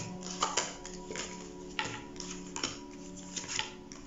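A deck of tarot cards being shuffled by hand, with repeated soft riffling and slapping bursts at close range in a quiet room, no talking.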